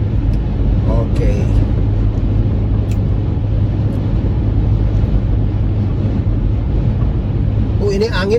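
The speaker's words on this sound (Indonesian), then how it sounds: "Saya bisa dengar suara angin menerpah, memukul-mukul badan mobil yang saya kemudikan ini." Strong wind roars and buffets against the body of a moving car, a loud continuous rush with low engine rumble beneath it and a few faint higher sounds near the start and end.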